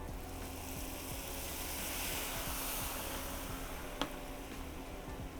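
Wine goes into a hot pan of shrimp and vegetables to deglaze it, setting off a steady, close hiss of sizzling liquid with one brief clink near the end and no voices.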